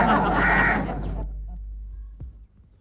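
A crow caws loudly and up close, a harsh drawn-out call that cuts off abruptly, followed by a faint click in near silence.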